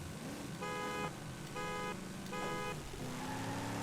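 A car engine in Forza Horizon 5 hums steadily, broken by three long horn-like tones in a row, followed by a lower drone at the end.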